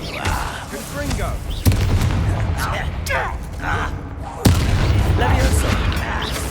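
Explosive Confringo spell blasts in Hogwarts Legacy, two sharp booms about three seconds apart, each followed by a rumbling roar, loud and close over busy combat noise.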